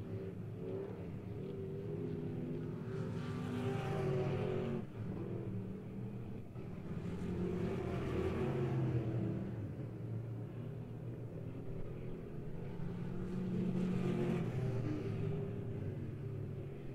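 Race cars roar around a dirt oval during a POWRi memorial race, engines rising and falling in long sweeping passes that swell near and fade off, a steady rumble throughout with no talk.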